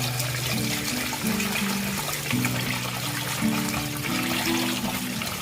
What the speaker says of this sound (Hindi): तो अब इसको मैं धो के अच्छे से, ठीक है, इसको धोकर एक जगह सुखा लूंगी